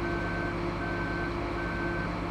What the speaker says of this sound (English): This vehicle is reversing.